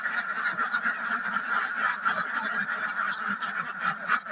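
A packed flock of egg-laying ducks on a farm, about three hundred birds, keeps up a dense, continuous clamour of overlapping quacks and honks, close and loud without pause.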